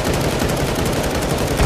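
Rapid gunfire in a video game, a dense, loud stream of shots with no pause across the short burst.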